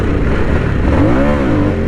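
A Harley-Davidson Sportster S 1250cc motorcycle revs hard, the engine note rising and then falling as the front wheel lifts into a wheelie. The engine is loud and close, with no talking, over constant wind and road roar.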